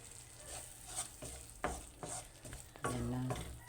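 Spaghetti sauce with cheese being stirred in a pan, soft sizzling beneath a series of distinct utensil scrapes and clanks at irregular intervals, close but quiet, no voices.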